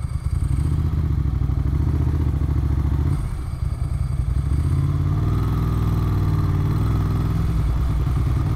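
A 1994 Ducati 900 Supersport pulls away in first gear, its engine a loud, close, throbbing rumble that dips briefly before holding steady at low revs, with no talk over it.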